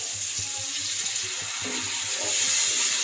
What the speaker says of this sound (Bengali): এবার দুধটা দিয়ে দেবো